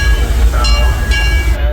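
Disneyland Railroad train, heard from its tender on the Grand Circle Tour, rumbles loud and close with continuous rolling clatter and metallic ringing tones.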